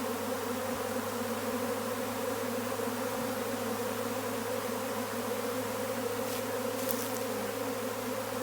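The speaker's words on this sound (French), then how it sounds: "la ruche essaime" A honeybee swarm pours out of its hive in spring, a dense, steady buzzing hum of countless bees that stays loud and unbroken throughout, with no talk.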